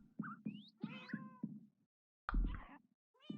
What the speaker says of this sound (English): All our kitties made it through.